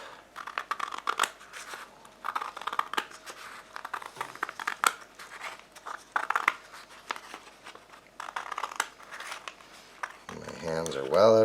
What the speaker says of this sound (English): I'll just start from the edge and a nice straight cut to get us all warmed up